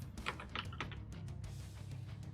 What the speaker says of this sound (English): Guess I could show you what I'm typing